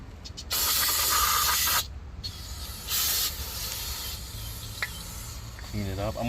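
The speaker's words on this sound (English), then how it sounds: "Spray some brake cleaner." Brake cleaner sprayed onto a car's brakes, heard as several close, loud hissing bursts separated by pauses, with faint clinks and handling noise between them.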